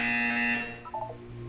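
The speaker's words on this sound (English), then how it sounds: "You will hear a buzzer." A harsh electronic buzzer in the Portal 2 video game, a loud steady tone lasting about half a second and fading out, followed by a few softer beeping notes.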